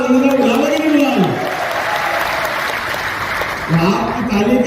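A rally crowd claps steadily and densely throughout, while someone speaks over the applause at the start and again at the end.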